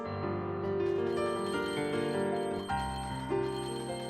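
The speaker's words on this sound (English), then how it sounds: "the DDD jump was better for the heart collecting bell" Bright bell-like chimes from the heart-collecting pickup in the video game Meta Knight's Adventure, ringing with overlapping sustained tones that shift partway through, with no talking.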